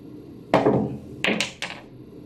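A pool cue strikes the cue ball for a curving kick shot on a billiards table: one solid close thunk, then a quick run of three sharper clicks as balls and rail are hit.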